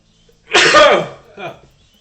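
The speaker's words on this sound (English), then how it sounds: "So I've got to sneeze." A single loud, close sneeze bursting out after a brief quiet, followed by a softer, shorter exhale or vocal sound as it trails off.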